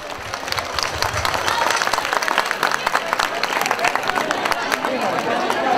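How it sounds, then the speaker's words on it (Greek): Outdoor village audience at a traditional folk dance festival breaks into warm applause for a dance group, a dense, sustained patter of clapping with some crowd murmur and a voice over it. "Το δεχτείτε θες με ένα πολύ ζεστό χειροκρότημα."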